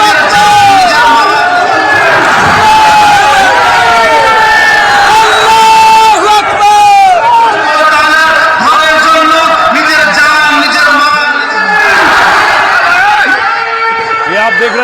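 A large crowd roars and chants at the Babri Masjid foundation event in Bengal, a loud, continuous sea of voices with shouts and cheers rising throughout.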